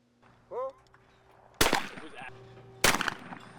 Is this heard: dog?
no